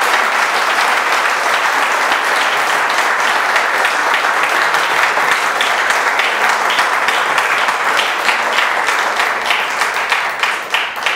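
A large lecture audience breaks into loud, dense applause honoring a maestro and his team, sustained clapping that holds steady throughout with only a slight thinning at the very end.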